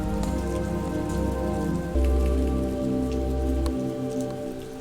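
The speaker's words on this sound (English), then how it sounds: "Because I have this rain that's kind of permeating the whole song" Rain woven through a music track, a dense steady patter of drops running beneath sustained tonal chords, continuous and fairly loud with no voices.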